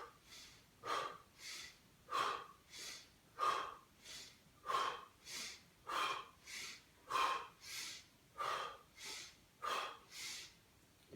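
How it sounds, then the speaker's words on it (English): Alternate nostril yoga breathing, about nine slow even cycles of audible nasal inhales and exhales in a steady rhythm, close and quiet with no talking. "Breathe in one side and exhale on the other side."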